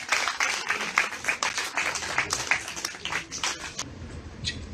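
Audience applause at an award ceremony at the Rajasthan International Centre in Jaipur, a dense steady patter of many hands that fades out near the end, with no voices over it.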